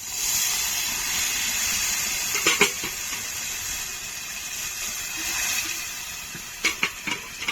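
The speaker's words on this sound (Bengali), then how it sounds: "এবার জল দিয়ে দেব" Water poured into a pan of frying spices, giving a hissing, steamy sizzle that swells and fades, with a few sharp clinks of a utensil against the pan near the end.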